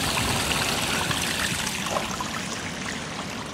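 Cold water gushes steadily out of an opened pool valve, a close, continuous rushing trickle with no voices over it.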